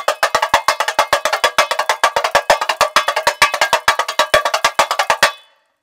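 Tamborim struck with a stick in a fast samba pattern, a steady run of about forty sharp, bright, close-up strokes with accented clacks, played alone and ending abruptly.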